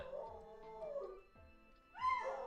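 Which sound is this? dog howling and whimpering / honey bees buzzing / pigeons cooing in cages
dog howling and whimpering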